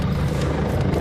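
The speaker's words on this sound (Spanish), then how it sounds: "un helicóptero de la policía llega y aterriza en plena vía" A police helicopter coming down to land on a road, its rotor and engine making a loud, continuous throbbing roar up close.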